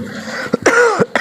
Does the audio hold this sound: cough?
yes